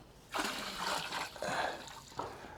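Dissolved nutrient mix, including nitrate, is poured into a 1,000-liter IBC hydroponic reservoir, giving bursts of splashing and gurgling liquid pours with short gaps between them.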